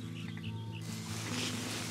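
Superb parrots call faintly in a few short, scratchy notes early on, over a quiet outdoor background in Australia.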